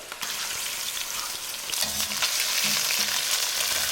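Chicken thighs, legs and breast browning in a pan for Italian chicken cacciatore, a loud steady sizzle and crackle of hot oil with a few low knocks partway through.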